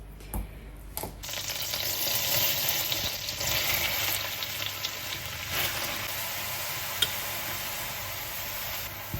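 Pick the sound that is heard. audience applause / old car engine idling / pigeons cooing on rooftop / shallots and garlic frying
shallots and garlic frying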